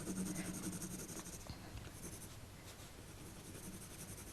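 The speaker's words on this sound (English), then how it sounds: "I'm not being very careful with my hatching here." Coloured pencil hatching across textured, toothy paper, a steady dry scratchy rubbing in loose irregular strokes, close and fairly quiet with no talk.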